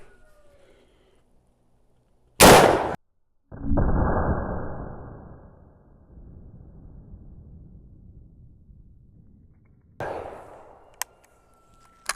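A 45-90 rifle firing a 350 grain bullet: one sharp, loud shot followed by a long echoing roll outdoors, and a second softer crack later on.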